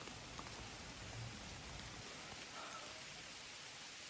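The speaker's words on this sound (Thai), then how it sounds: "ตอนนี้ฝนก็ตกลงมาเรื่อยๆเลย" Steady rain falls at night around an abandoned shopping mall, a faint, even hiss that stays constant for several seconds with no voices.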